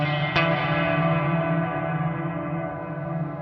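Guitar note played through a NUX MG-300 multi-effects unit's reverb set to maximum pre-delay: a sharp pluck rings out, then a dense reverberant wash swells and sustains for several seconds, slowly darkening.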